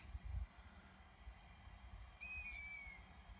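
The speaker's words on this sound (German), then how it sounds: "Da sind die Eulen," Owls calling at night in Germany: a short burst of high, wavering hoots near the end, fairly clear over faint low background rumble.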